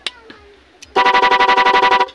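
After a few faint chirps, a loud musical car horn blares a quick repeating pattern of pulsed tones, about a dozen rapid beeps.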